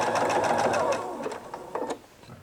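Sewing machine stitching back and forth over tote bag straps, a steady close mechanical whirr that runs continuously and then tapers off near the end.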